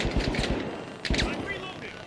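Rapid bursts of automatic gunfire in the video game The Finals, a quick string of sharp shots followed by another short volley, close and loud, with a voice speaking over parts of it.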